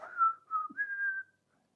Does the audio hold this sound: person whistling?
yes